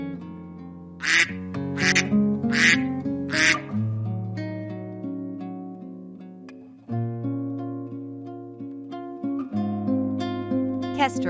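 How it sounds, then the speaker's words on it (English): A Mandarin duck gives a rapid series of four nasal quacks, followed by longer, drawn-out calls with a clear harmonic buzz, close and loud with no talk. "Mandarin duck."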